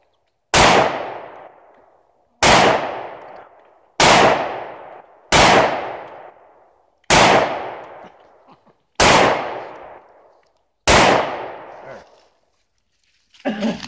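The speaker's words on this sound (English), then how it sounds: "You got 12 shots in there, unload that sucker." Seven loud, close 9mm handgun shots go off one by one at roughly two-second intervals outdoors, each sharp crack fading into a short echo, and a faint further bang comes at the very end.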